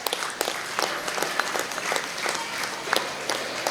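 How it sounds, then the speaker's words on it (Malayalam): An audience at an Onam celebration prize-giving held by a residents' association applauds steadily, with many hands clapping in a dense, sustained burst for several seconds. "എല്ലാവരും കൈയടിച്ച് പ്രോത്സാഹിപ്പിക്കണേ."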